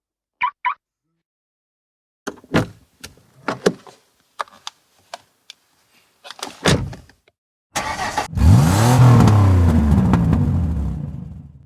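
Sound effects for a children's audio story: a few sharp car door clunks and clicks spaced apart, then a car engine roars to life and revs loudly and continuously to the end.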